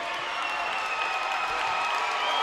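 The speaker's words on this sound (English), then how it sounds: "And the crowd here celebrates" Crowd at a boys high school basketball game between TCA and Harding Academy applauding and cheering after a made shot, a sustained wash of clapping and crowd noise heard at a distance.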